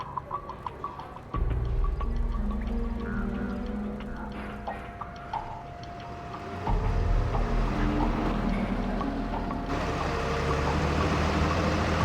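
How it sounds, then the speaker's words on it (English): Patrol vehicles drive through a Metal Gear Solid 4: Guns of the Patriots battlefield: a low, rumbling engine drone rises twice, growing heavier and closer, with no talk over it. "Looks like they're conducting vehicle patrols."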